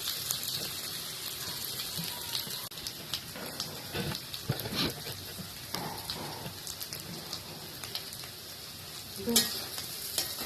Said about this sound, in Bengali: এই সেদ্ধ আলু দিয়ে করা তো, এই জন্য একটু ভালো করে কষে দিতে হবে